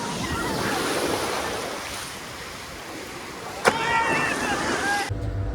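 Sea waves wash in at Puri beach as a steady, close roar of surf mixed with wind buffeting the microphone, with a person talking over it.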